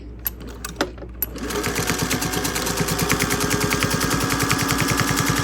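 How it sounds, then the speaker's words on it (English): A sewing machine stitches a black and white quilt, starting with a few clicks and knocks before running into a fast, steady mechanical rattle close by. "I'm going to sew the opposite side here."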